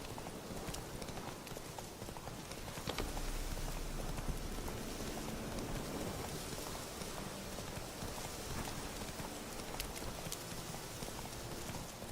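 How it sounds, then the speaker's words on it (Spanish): Steady rain hisses and patters in The Witcher 3 game world, a soft continuous wash under rhythmic horse hoof clip-clops, fairly quiet overall. "Y este lugar no deja de llover, ¿eh?"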